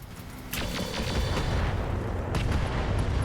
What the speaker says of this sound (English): AC-10 ammunition explosion took up the whole bloody mech